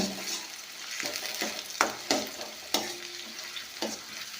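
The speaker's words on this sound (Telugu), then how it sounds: "ఆనియన్స్ వేసుకొని ఈ విధంగా వేపుకుందాం" Sliced onions sizzle and fry in a hot pan for a country-style native chicken curry, with a steady crackling hiss broken by several sharp scrapes and knocks of a spoon stirring against the pan.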